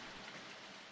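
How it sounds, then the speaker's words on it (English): Steady rain falls in a hard, even downpour, a dense continuous hiss with no other sounds over it, which cuts off short. "The rain stops as suddenly as it began."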